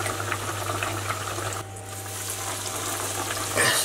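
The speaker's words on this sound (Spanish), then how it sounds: "vamos a freír el cachopo con aceite bien fuerte" Breaded veal cachopo frying in very hot oil, a steady broadband sizzle with a constant low hum running beneath it, briefly dipping in the middle before rising again near the end.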